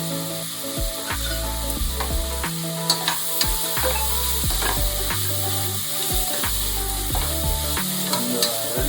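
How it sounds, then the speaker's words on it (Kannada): Cashews and whole spices frying in oil in a pan until golden, a constant close sizzle broken by repeated rhythmic scraping stirs and clicks, with a steady low hum underneath and no talking. "ಇದೆಲ್ಲ ಗೋಲ್ಡನ್ ಕಲರ್ ಬರೋವರೆಗೂ ಫ್ರೈ ಮಾಡ್ತೀವಿ."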